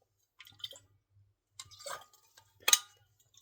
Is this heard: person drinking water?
yes